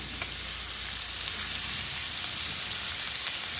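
Potato filling for samosa fries steadily in a pan, a close, even sizzle that crackles without pause throughout.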